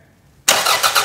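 A car engine hot-wired with a paper clip catches abruptly after a silent pause, a sudden loud start that settles into a steady running roar with slight surges.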